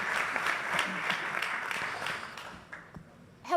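Audience applause for a panel at a summit in New York, a steady round of clapping that thins out into a few last claps.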